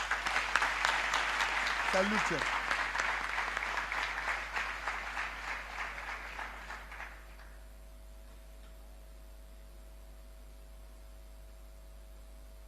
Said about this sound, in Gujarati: તો પહેલા તો એક જોરદાર તાળીઓ આ જે લોકો નીચે બેઠા છે ને ઊભા છે એમના માટે પાડો.